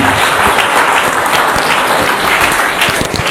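A large crowd at an outdoor political gathering breaks into loud, sustained applause, a dense wash of clapping close by that holds steady for the whole stretch.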